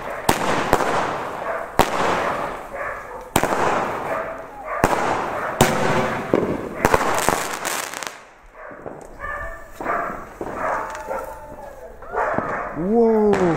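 A 30-shot firework cake battery bangs out in a rapid series of sharp cracks, then fades into crackling as people talk and a dog whines nearby.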